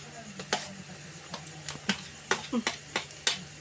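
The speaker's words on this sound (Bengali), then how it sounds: "এখন আমি রসুনটা দিয়ে দেবো।" Garlic dropped into hot oil sizzles softly at close range, broken by a series of sharp clicks and taps from a spoon or spatula against the pan.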